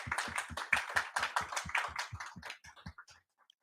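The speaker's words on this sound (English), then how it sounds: "Can we give the panel a round of applause?" A small audience claps for a youth-led panel at a policy discussion event, with close, distinct individual claps in a quick rhythm that thin out and fade to silence after about three seconds.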